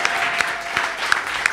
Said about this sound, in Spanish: Un aplauso para la pizzería, sí.